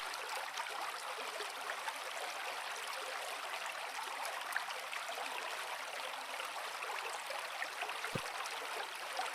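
Steady rushing water fills the scene, a broad continuous roar of a waterfall in Kanchanaburi, Thailand, with no voices, holding even throughout.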